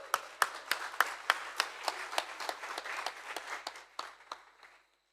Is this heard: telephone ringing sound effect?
no